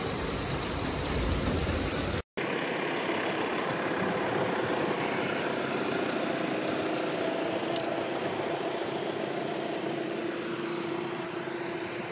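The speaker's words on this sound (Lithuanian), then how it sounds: "oi kaip lyja, bet turim stogiuką" Steady heavy rain pours down on a small roof without letup in Kaunas, a dense hiss close by, with a brief cut near the start.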